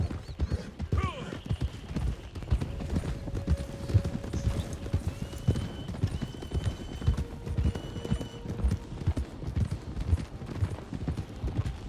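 Horses' hooves clip-clop in a steady, busy rhythm in Red Dead Online, with occasional whinnies and voices talking over the plodding hoofbeats.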